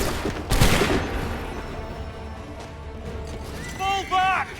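A line of muskets fires a single sharp volley in the Assassin's Creed 3 Remastered video game, a loud crack followed by a rumbling battlefield din, with shouted voices near the end.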